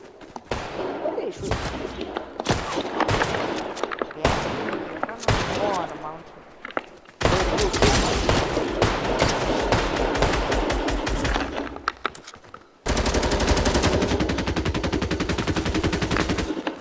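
Bursts of LMG machine-gun fire in Fortnite come in several long rapid strings separated by short pauses, fairly loud, with players talking over the shooting.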